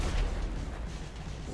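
A short, muffled explosion in GTA 5 Online team deathmatch: a boom rumbles briefly, then fades into low game noise.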